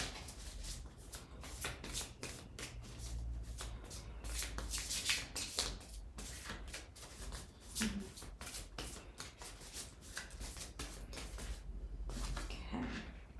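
Tarot cards are shuffled by hand, a quick run of close, crisp riffles and flutters repeating over many seconds with brief pauses between bursts.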